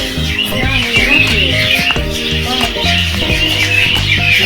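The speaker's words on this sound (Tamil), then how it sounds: "இதோ உள்ளே அந்த பறவைகள் கீச் கீச் என்று சத்தமிடும்" Birds chirp and call in a dense, busy chorus at a bird park in Thanjavur, with cooing pigeons or doves possible among them, fairly loud and continuous over a noisy outdoor background.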